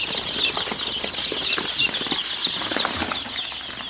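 Chicks being raised for a thesis project chirp in high, rapid peeps at feeding time, mixed with close rustling and scratching of feed and wings, with no talk.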